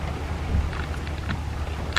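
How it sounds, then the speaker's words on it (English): Heavy, wind-driven rain pours down outdoors, a steady dense hiss with a low rumbling undertone that runs unbroken through the whole stretch, with no voices. "It's raining sideways."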